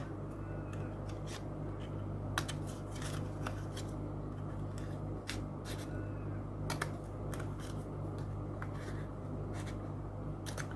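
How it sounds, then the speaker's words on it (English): Scissors snip through paper in quick, crisp cuts, scattered irregularly over a steady low background hum, no talking. "just get your scissors and cut to the corners like this"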